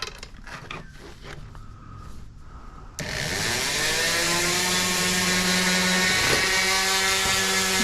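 A Dremel rotary tool spins up and cuts into a broken fiberglass part, a loud sustained high whine that starts abruptly after quieter handling noises and wavers in pitch as the cut loads the motor, close to the listener.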